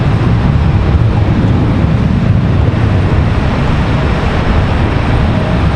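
Airbus A319 or A320 airliner at Charlotte Douglas airport, a steady broad roar of jet engines held at constant loudness throughout, dense low rumble with no talk.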